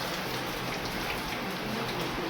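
Steady rain pours outside during a windstorm, a dense continuous hiss of drops on surfaces with no pauses, fairly close and loud.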